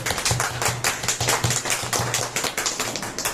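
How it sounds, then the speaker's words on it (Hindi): An audience claps steadily together in a fast, even rhythm, the sharp claps close and fairly loud with no voices over them. "तालियों से।"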